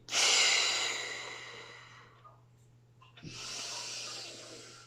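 One long, deep inhale rushes in close to the mic and fades, then after a short pause a slow, steady exhale follows.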